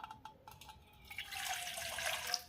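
Warm water running and splashing as a face is rinsed, starting with a few soft drips and building into a steady, close wash of water that continues to the end with no talking.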